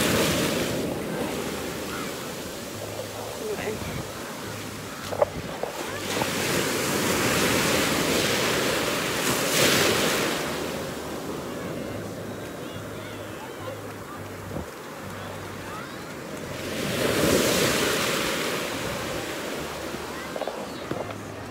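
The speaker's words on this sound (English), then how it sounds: "I can see the waves come in." Ocean surf rolling in at a beach, a steady broadband wash with louder swells building and breaking around the middle and near the end, mixed with wind noise on the microphone.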